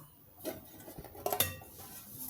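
A plate is set onto a cake pan and the two are flipped over together, giving soft clatters and a couple of sharp ceramic-on-metal clinks, quiet and close.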